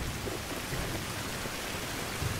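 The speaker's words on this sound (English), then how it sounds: "This rain just doesn't stop." Steady, dense rain pours without letup in the survival video game Fountain of Youth, a loud continuous hiss filling the whole moment with no voices over it.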